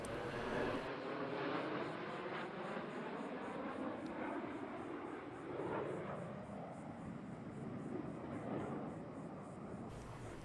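Blue Angels jet aircraft flying in formation at a practice show make a broad, distant roar that holds steadily throughout with a slow shifting swell, fairly faint under a high background whine.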